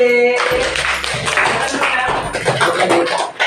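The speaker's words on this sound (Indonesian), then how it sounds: "Tepuk tangan untuk kelompok B." A classroom group claps together for a team at an elementary school teaching-innovation competition, a short burst of applause with a few taps and faint voices around it.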